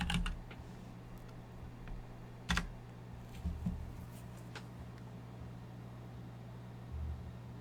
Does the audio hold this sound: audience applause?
no